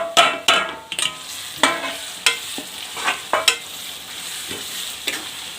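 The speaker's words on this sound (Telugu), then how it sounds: "ఇవన్నీ డ్రై పౌడర్లు ఇవన్నీ వేసుకోవాలా దీంట్లో." Dry spice powders are stirred into curry frying in a pan: a spoon scrapes in repeated, sharp strokes at an uneven rhythm over a soft sizzle, close and clear with no talking.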